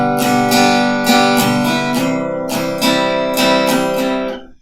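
A guitar strums a repeating syncopated pop pattern of down and up strokes, loud and close, with bright chord attacks arriving in an uneven rhythm and ringing without a break until a short fade at the end.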